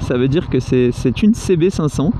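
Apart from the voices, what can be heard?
No distinct noise like a dog, phone or traffic.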